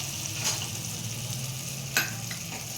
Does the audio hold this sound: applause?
no